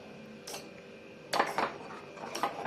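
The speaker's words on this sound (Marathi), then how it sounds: "दूध तापतंय त्या याच्यामध्ये मिक्स करायचे या भाजलेल्या शेवया" Roasted vermicelli is stirred into milk heating in a pan for sheer khurma, producing a few quiet, scattered metallic scrapes and clinks of a spoon against the pan, close by, with no talking.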